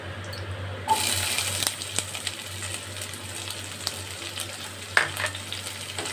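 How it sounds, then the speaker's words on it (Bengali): Chopped onions frying in a pan of hot oil with cumin seeds, a loud sudden sizzle that holds as a steady hiss, with light stirring clinks and scrapes. "এর মধ্যে আমি দিয়ে দেবো এবারে পেঁয়াজ কুচি"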